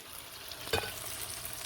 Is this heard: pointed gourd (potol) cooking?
yes